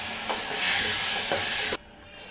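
Ground masala paste hits a hot pan with a loud, steady sizzling hiss and stirring that swells, then cuts off abruptly near the end, leaving a quieter background.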